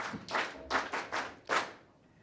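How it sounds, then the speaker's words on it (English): Scattered hand claps from a small audience at a formal business event, heard in about five separate bursts of applause that fade out at the end. "certainly deserves another round of applause"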